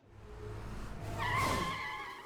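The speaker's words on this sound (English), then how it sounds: "I hear the screeching of tires ring out from the slope leading to the underground parking lot" Car tires screech in the video game Tokyo Necro on a slope leading down to an underground parking lot, a single rising and falling squeal over a low engine rumble lasting about a second.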